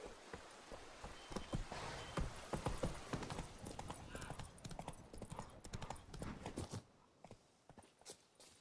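Horse hooves clip-clopping at a brisk trot in The Witcher 3 video game, a dense run of close hoof beats that thins and quiets near the end, with faint ambient rain behind.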